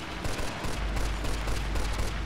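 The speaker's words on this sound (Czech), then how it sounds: "Všichni po mně střílí." Rapid bursts of gunfire in the video game Mafia 2 crackle over a deep rumbling drone, the shots clustered into a dense, ongoing volley.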